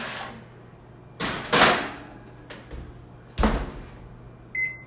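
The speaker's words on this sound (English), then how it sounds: "We're gonna put this in the oven for about 10 to 15 minutes to bake" Oven door handled as a tray of mixed berry oatmeal crumble bars goes in to bake: several distinct clunks and thuds with short scraping rattles, spaced out over a few seconds, close by in a quiet kitchen.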